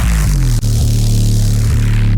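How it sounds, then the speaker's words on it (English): A synth wobble bass with its detune automated, holding a loud, sustained low tone that pulses in a steady fast wobble, alone and with no voices. "I automated the detune, which controls what I said, and it sounds like this"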